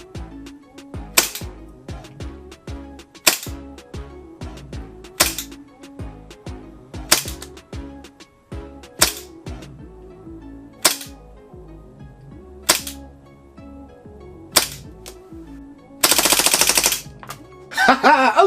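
A WE-Tech M92F gas airsoft pistol fires at intervals, sharp single cracks spaced about two seconds apart, then a short full-auto burst near the end with a dense rapid rattle.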